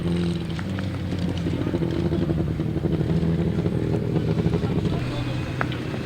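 Powerful 1000cc sidecar racing engines roar at a grasstrack meeting, a dense continuous engine drone with clattering, steady and loud throughout, with a voice audible over the noise.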